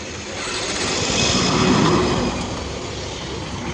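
A Yamaha R15 motorcycle engine runs loud and close with a broad, steady roar that swells in the middle and then eases as the bike moves off, with no talking over it.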